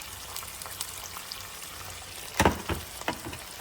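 Ackee and bacon frying in a pan on a lowered heat, a soft steady sizzle running throughout, broken near the end by a few louder scraping stirs close by.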